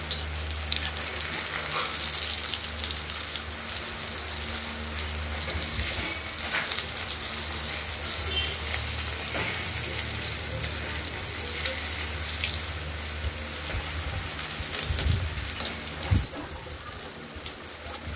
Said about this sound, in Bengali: এবার আমরা উল্টে আরেক পিঠ করে ভেজে নেব